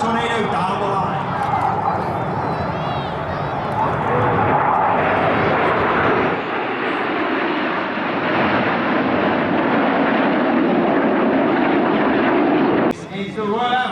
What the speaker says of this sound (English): This is the Royal Air Force Aerobatic team in short diamond.